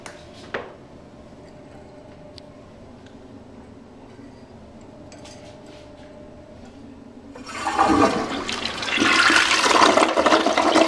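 An older Toto Drake toilet using 1.6 gallons per flush starts with a click, then after a quiet stretch bursts into a loud rushing flush that roars steadily to the end, close and without talk.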